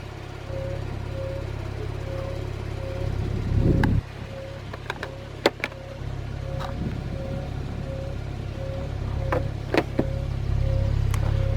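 Automatic power windows on a 2014 Porsche 911 Turbo Convertible whir under a steady low engine idle, broken by a few sharp clicks and taps.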